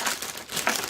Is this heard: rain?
no